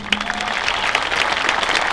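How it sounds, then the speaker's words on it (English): Applause from a high school crowd honoring seniors of the sectional champion baseball team, a steady dense wash of clapping for about two seconds, fairly loud and close, with no talk over it. "round of applause for them."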